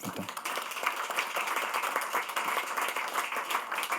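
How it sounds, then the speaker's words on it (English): An audience at a World Brain Day event applauds two lived-experience advocates, sustained moderately distant clapping from many hands with an even, rapid patter throughout. "So a round of applause for them, please."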